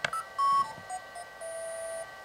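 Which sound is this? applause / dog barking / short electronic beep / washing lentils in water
short electronic beep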